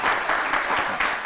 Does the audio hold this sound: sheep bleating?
no